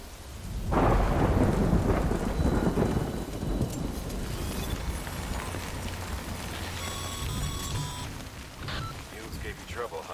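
Rain pours steadily in Death Stranding while a heavy thunder rumble rolls in early and fades, followed by a few brief tonal game sounds near the end.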